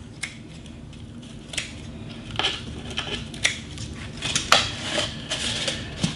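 Scissors trimming raffia pieces, a series of irregular crisp snips and rustles, close and clear, growing busier toward the end.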